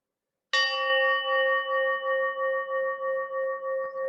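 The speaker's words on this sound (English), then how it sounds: "I'll play the harmonic of a gong" A gong struck once, its harmonic ringing out alone with a bright attack and a long sustained shimmering tone that slowly pulses as it decays.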